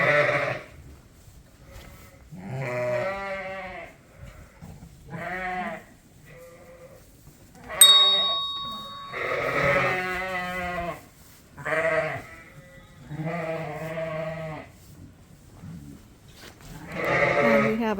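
Suffolk ewes and newborn lambs bleat inside a lambing barn, with repeated loud wavering calls close by, some overlapping, and brief quiet gaps between them.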